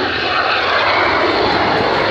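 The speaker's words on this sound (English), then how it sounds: "We've got some planes going now." Propeller planes flying overhead at an air show, a loud, continuous broadband engine roar that stays steady and dominant, with no talk over it.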